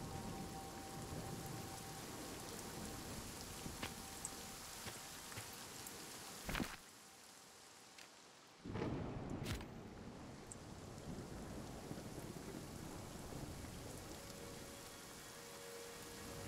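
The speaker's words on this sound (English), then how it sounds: "it's raining. I am not coming out there while it's raining." Steady rain patters on surfaces near the ocean, a continuous hiss interrupted by a couple of sharp loud cracks and brief drops, with no talk over it.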